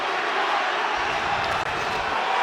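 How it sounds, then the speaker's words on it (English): A sold-out arena crowd at a UFC fight between Tito and Chuck keeps up a dense, steady roar, with a low rumble of murmuring and shouts and a brief dip partway through. "Listen to this sold-out crowd"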